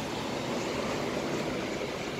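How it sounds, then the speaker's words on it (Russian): Continuous rushing wash of Black Sea waves at Sochi, a steady broad hiss with a low rumble and no distinct breaks, no voices. "Там шум моря, слышать"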